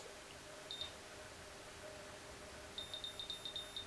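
A VS Curl Secret hair curler gives one short high beep, then after a pause a rapid run of several quiet electronic beeps over faint background hiss, with no talking.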